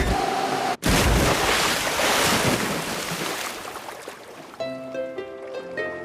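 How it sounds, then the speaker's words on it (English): Cartoon big splash as a craft lands in open sea water: a sudden loud rushing wash of spray after a brief cut, fading into bright tinkling tones. "Prepare for a big splash."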